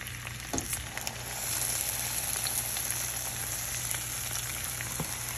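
Hilsa paturi, fish wrapped in leaf, frying in oil: a continuous bright sizzle that swells slightly partway through, with a few faint clicks on top and no voices.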